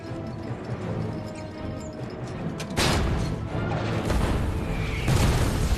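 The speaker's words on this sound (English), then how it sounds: "The German barrage continues." A German artillery barrage during the July 1944 fighting against Canadian troops rumbles on in heavy, sustained thuds and crashes, with several loud bursts breaking through a dense roaring background.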